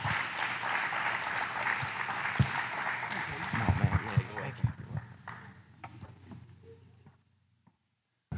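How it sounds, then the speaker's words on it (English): Crowd at a coaches' banquet giving a speaker a round of applause, full and sustained clapping with some cheering that gradually thins into scattered claps and fades to near silence. "y'all give a round of applause for Sherman Smith tonight."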